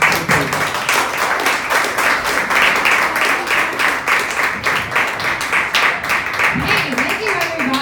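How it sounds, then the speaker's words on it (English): Warm applause fills a stand-up comedy room for comedian Kate Barton, steady dense clapping with a few cheers running the whole stretch at close range. "Give a nice warm round of applause for Mrs. Kate Barton."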